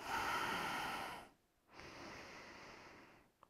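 Deep, close breaths during an Ashtanga yoga pose: a long breathy exhale, a short pause of near silence, then a softer drawn breath, ending with a faint click.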